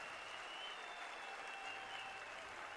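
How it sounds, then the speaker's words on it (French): Faint, distant crowd applause for a women's fight, a steady wash of clapping that holds evenly throughout with no talk over it. "on vous applaudit des deux mains sans aucun problème"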